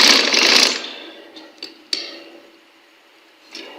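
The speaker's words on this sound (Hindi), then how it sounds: "यहाँ पर इस तरीके से रख कर इसको सिलाई लगा लेनी है" Sewing machine stitching a length of elastic folded double: a short burst of whirring at the start, then a few isolated clicks and mechanical ticks with quiet gaps between them.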